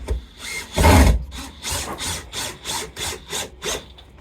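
Wood pieces are screwed together while building on an allotment, giving a series of repeated grinding, rubbing bursts in a steady rhythm, close and fairly loud, with no talk.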